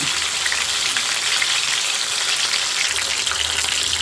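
A large fish fries in oil in a pan, giving a loud, steady, close crackling sizzle that runs unbroken with no voices.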